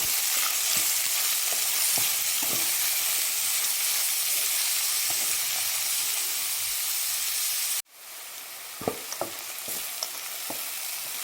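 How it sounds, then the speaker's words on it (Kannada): A spice masala of turmeric and salt for puffed rice fries in a pan, giving a steady close sizzle with soft stirring scrapes, briefly cut off and then resumed with clearer clicks of the spoon. "ಇನ್ನೊಂದು 2 ನಿಮಿಷ ಇದು ಫ್ರೈ ಆಗಲಿ."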